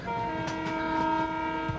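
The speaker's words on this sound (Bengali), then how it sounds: "ট্রেনটা বার বার একই রাস্তায় ঘুরপাক খাচ্ছে" A train rolls along with a sustained, horn-like whistle tone ringing over the rumble of the cars, steady and alone, with no voices.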